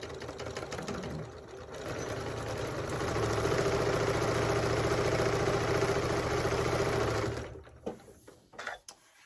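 A sewing machine sews the side of a mini backpack in a steady, close, continuous run of rapid stitching that builds slightly and then stops, followed by a few light handling clicks.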